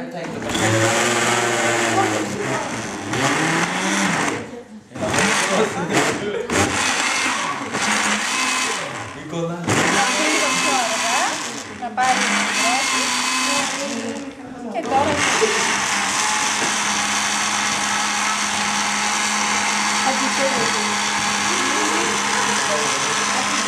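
A blender whirs loudly, churning paper pulp with water for recycling, running in starts and stops at first and then settling into a long continuous grind.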